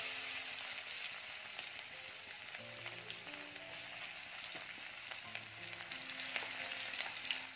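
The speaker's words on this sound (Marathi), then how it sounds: "तेल छान तापलं की सुरुवात आधी आपण लसूण टाकणार आहोत" Garlic drops into hot oil for a palak bhaji, giving a continuous, fairly quiet frying hiss that holds steady throughout with faint crackles.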